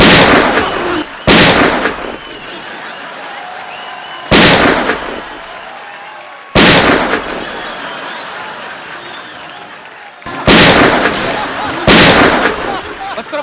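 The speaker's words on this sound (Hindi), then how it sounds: "बस करो भाई, 6 गोलियां 12 मार दी आपने" Gunshots fire repeatedly as a comedy show sound effect: several loud, sharp bursts, each followed by a decaying roar, spaced a few seconds apart, with crowd noise between them.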